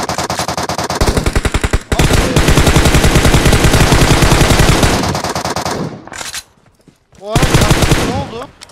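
Dense automatic rifle bursts in PUBG Mobile, rapid loud fire sustained for several seconds with a short pause before another close burst; faint voices talk alongside.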